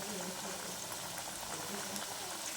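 Banana flower vadai fry in plenty of hot oil, a constant dense bubbling and hissing sizzle that stays even and moderately loud throughout.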